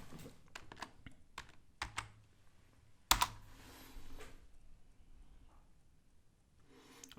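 Typing on a computer keyboard to enter a short name, heard as scattered clicks and a few sharper key taps with pauses between them, close and fairly quiet, with no talking.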